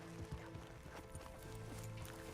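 Horse hooves clip-clop at a quick pace in Red Dead Redemption 2, quiet and close, with a faint whinny-like tone underneath and no talk over it.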